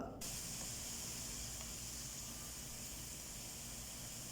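Chopped ripe tomatoes sizzling in a hot pan, a soft, even hiss that starts abruptly and holds steady and faint, with no talking.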